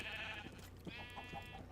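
Two drawn-out sheep bleats from the Minecraft video game, the first short and the second longer and wavering, clear and fairly close over a low steady background hum.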